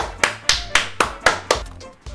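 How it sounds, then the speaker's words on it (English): Hands clap in a steady rhythm, about seven sharp, close claps evenly spaced a quarter second apart, with no talk over them. "Start clapping right now."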